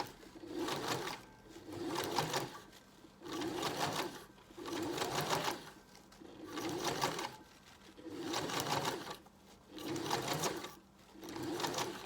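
A sewing machine stitching fabric crepe paper ruffles in regular bursts of fast, rattling stitching about a second long, separated by short pauses, close and fairly soft with no speech.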